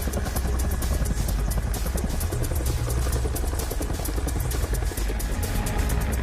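Continuous loud engine and rotor roar from a training aircraft flying near mountains in gusty, shifting winds, steady throughout with no talk.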